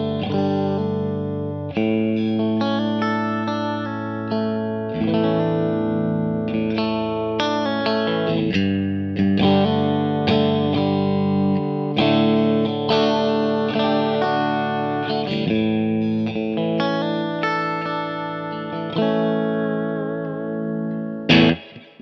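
Clean Fender Stratocaster played through a Big Sky reverb pedal into a Kemper profile of a blackface amp, sustained chords and notes ringing with a lush reverb tail, loud and continuous throughout with no talking.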